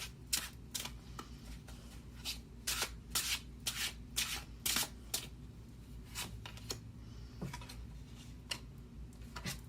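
Tarot cards being shuffled during a Capricorn reading: repeated quick papery riffles and rubs in uneven bursts, close and fairly soft, with no talking.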